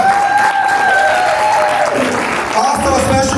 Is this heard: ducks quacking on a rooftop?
no